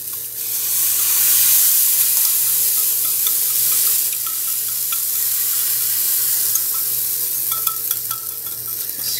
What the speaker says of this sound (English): We're going to pour our batter into 3 pancakes, and this thing has been heating up